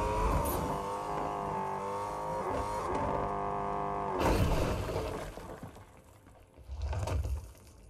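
A car engine drones steadily in Fortnite while driving, its revs shifting and surging midway before easing off and swelling again, heard alone at moderate loudness.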